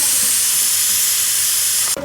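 A pressure cooker vents steam in one loud, steady, close hiss lasting about two seconds, then cuts off abruptly at the end.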